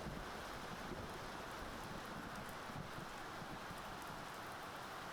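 Steady hissing rain at sea in the UBOAT submarine game, a dense even wash with low rumbling surf underneath, constant and unbroken with no voices.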